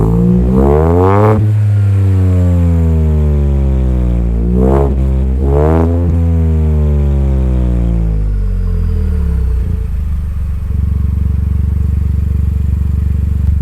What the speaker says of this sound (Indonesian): dia udah diganti knalpotnya pakai Rebus. Suaranya kayak gimana?